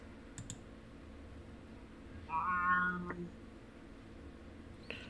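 A single cat meow, short and fairly clear, rings out midway over a quiet background with a few faint clicks before and after.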